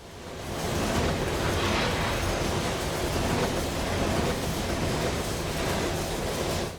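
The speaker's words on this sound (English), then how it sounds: "I always love the sound of a high-speed intermodal as the wheels roar by." A high-speed intermodal freight train roars past in the Trainz video game, its wheels producing a loud, sustained rumble and rush that swells in and holds steady for several seconds without talk.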